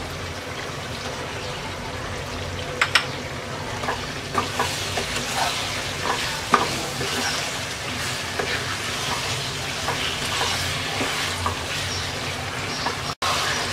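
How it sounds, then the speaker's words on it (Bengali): Spicy olive pickle cooking with three tablespoons of sugar in a pan over medium-low heat gives a continuous bubbling sizzle, broken by occasional clinks and scrapes from stirring. "এবার মিডিয়াম লো আঁচে কিছুক্ষণ পরপর নেড়ে নেড়ে 7-8 মিনিটের মতো রান্না করব।"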